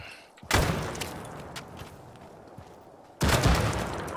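Two frag grenade blasts in the military shooter Arma, each a sudden heavy boom with a rumbling tail, spaced about three seconds apart against faint background ambience, with no voices heard.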